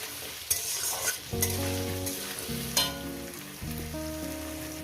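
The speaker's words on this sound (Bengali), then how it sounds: "লবণটাকে দিয়ে আলুগুলো এইভাবে ভাজবেন" Salted potatoes sizzle steadily in a hot pan while a utensil stirs and scrapes through them, with a few clanks against the pan.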